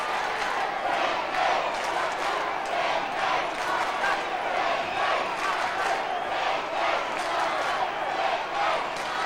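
The Sydney crowd roars at a 1992 AFL match against Carlton, a dense, sustained wash of cheering and shouting filling the stadium, steady and loud throughout.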